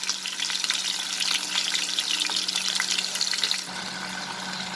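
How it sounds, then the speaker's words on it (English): Prawns sizzle and crackle steadily in hot oil in a pan for a Bengali prawn and sponge gourd dish, close and loud, then the frying drops to a softer hiss near the end. "And now I will fry these prawns."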